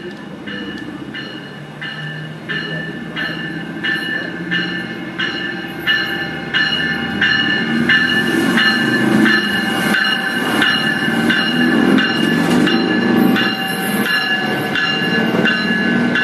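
A CSX freight train slowing to a stop, with loud high-pitched brake squeals pulsing in a steady rhythm over rumbling wheels and cars, growing louder and denser as it nears.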